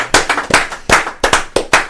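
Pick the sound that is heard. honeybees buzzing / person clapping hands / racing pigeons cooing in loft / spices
person clapping hands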